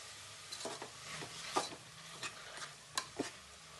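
A spoon scrapes and stirs soya chunks with salt in a pan, a handful of soft clinks and scrapes spaced irregularly, quiet and close with nothing else around.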